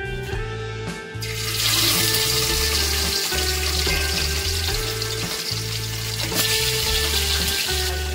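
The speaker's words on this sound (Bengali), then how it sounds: "মাছগুলোকে এবার ভেজে নেব।" Tangra fish coated in mustard oil frying in a pan, a loud, steady crackling sizzle that jumps up after a quiet second and continues with sputters and a low pulsing hum underneath.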